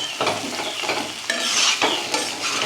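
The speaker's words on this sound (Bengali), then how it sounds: "আর এই যে কাঁচা লঙ্কা এগুলো এখন দিচ্ছি আমি, আর একটু ভালোভাবে নেড়ে চেড়ে জল দিয়ে দেব।" Chicken with green chillies is stirred in a pan, making a loud, close frying sizzle broken by brisk scraping spatula strokes.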